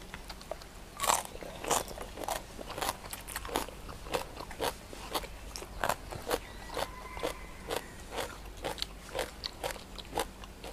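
Pork cracklings (khaep mu) crunch loudly with each bite, followed by chewing, in a steady rhythm of sharp crisp snaps close to the mouth.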